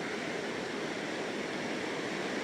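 Forceful water rushing at Soormane Falls near Kalasa, a dense, constant roar with no voices.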